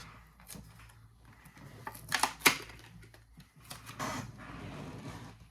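Cardboard and plastic blister packaging for a Hot Wheels 1990 Acura NSX toy car is torn and crinkled open, with scattered rustles and a few sharp ripping bursts close up.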